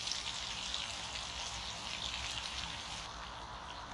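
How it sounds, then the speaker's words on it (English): Tomatoes sizzle in a pan on a Trangia spirit stove at a solo car camp, giving a faint, steady crackling hiss that holds evenly throughout. "You hear the sizzle?"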